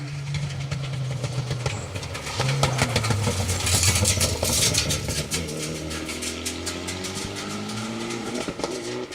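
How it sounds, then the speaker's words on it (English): A rally car on a Welsh Cambrian Rally special stage roars past with its engine rising and falling, loud and close, accompanied by a flurry of sharp exhaust pops and bangs. "Popping and banging."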